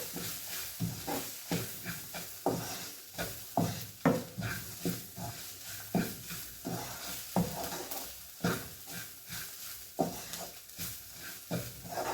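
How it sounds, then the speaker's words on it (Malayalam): Spoon stirring and mixing spiced food with coriander powder in a hot pan, with repeated rhythmic scrapes roughly every half second over a steady, soft sizzle. "ഇനി നമുക്കതെല്ലാം കൂടെ ഒന്ന് മിക്സ് ചെയ്ത്"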